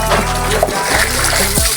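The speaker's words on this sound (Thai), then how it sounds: "แล้วก็เทน้ำออกไปนะน้ำที่ไม่ดีเนี่ย" Water splashes and gurgles as dirty water is poured out in a steady rush, close by and fairly loud.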